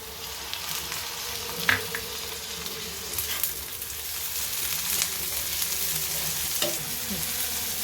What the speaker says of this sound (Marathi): टोमॅटो छान परतून घेऊया